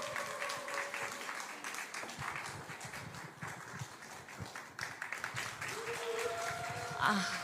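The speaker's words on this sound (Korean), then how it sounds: "격려의 박수로 부탁드립니다." A church congregation at a Thursday worship concert claps in encouragement for a woman being introduced, a steady wash of applause at moderate distance with a brief tonal sound near the end.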